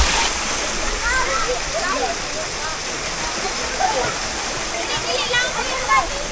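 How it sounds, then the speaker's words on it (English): Steady rushing roar of a waterfall close by at an eco farm in Carmen, Cebu, Philippines, with excited voices calling and shouting over it. "Go underneath the waterfall!"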